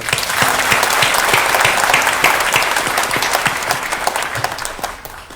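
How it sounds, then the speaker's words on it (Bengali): An audience applauds at a Bangladesh Television Notun Kuri award ceremony, dense sustained clapping from a large crowd that carries on for several seconds and gently tapers off toward the end. "তাদের জন্য জোরে একটা হাততালি দিয়ে"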